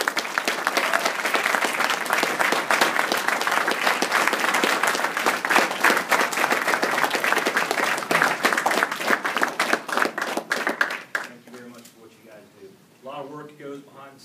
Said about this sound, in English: Okay, how about a round of applause for all of you?